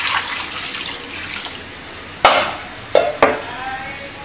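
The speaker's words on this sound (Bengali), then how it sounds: "পানি দিয়ে দিচ্ছি," Water is poured into a pot holding washed potatoes and eggs for boiling, with a soft running pour followed by a few sharp clanks and splashes of the pot being handled.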